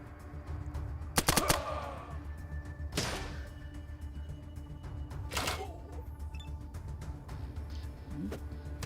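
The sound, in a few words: gunfire in video game ATOM RPG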